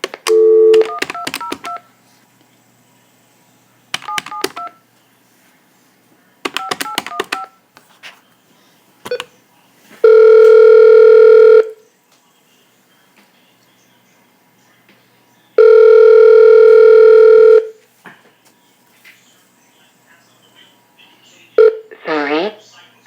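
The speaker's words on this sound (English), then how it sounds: "Let's call Henry F Schuelke III." Telephone keypad tones while a call is placed to a Washington, D.C. number: several quick bursts of beeps, two longer sustained tones, and a brief warbling electronic sound at the end, loud and close against quiet background.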